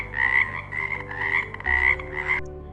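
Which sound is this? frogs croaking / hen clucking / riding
frogs croaking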